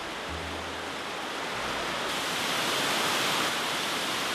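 Longmen waterfall in Guizhou, about 40 m high, roars as a steady broadband wash of falling water that swells slightly louder toward the end, with no voices.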